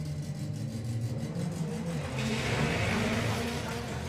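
A Ford Focus and a Vauxhall Corsa drag racing at Santa Pod Raceway during Ultimate Street Car, their engines droning and revving steadily, with a louder, brighter surge of acceleration partway through.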